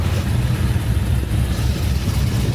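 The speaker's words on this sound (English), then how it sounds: "Listen to that V8." A deep, rumbling V8 engine of an HSV VE Maloo R8 ute runs steadily, loud and close, with a throaty low burble throughout.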